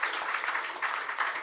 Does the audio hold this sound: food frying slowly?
no